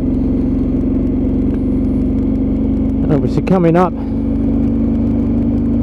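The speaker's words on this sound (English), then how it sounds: "Gets up to speed very quickly, which is what we would expect from that big triple cylinder engine." A Triumph Speed Triple 955 triple-cylinder motorcycle engine drones steadily and loudly during a road ride, while someone speaks briefly over it.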